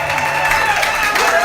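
A church congregation applauding and calling out acclamations during a worship service, a dense, continuous roar of clapping and voices, loud and steady throughout.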